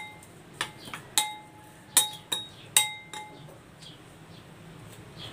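Utensil clinking against a glass bowl while soy sauce, salt and pepper marinade for steamed chicken is stirred, a series of bright, close chinks at an uneven rhythm that trail off into quieter taps.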